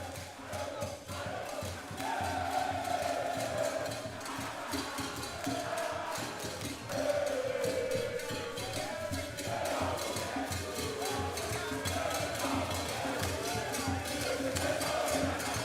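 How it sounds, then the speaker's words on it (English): An audience at a university innovation competition semi-final cheers and applauds in a hall. The crowd noise stays steady and moderately distant, with a voice heard over it at times. "A round of applause to him."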